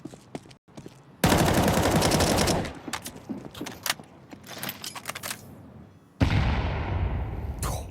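Bursts of automatic gunfire from a Counter-Strike match crackle in dense rapid volleys, with a long spray at the start, scattered single shots through the middle and another heavy burst near the end.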